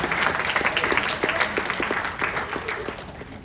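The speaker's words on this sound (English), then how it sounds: "You can clap for that." A lecture-hall audience applauds an anti-bullying hip-hop book during a university talk at Tufts, a steady, dense wash of many hands clapping close by for several seconds, fading slightly at the end.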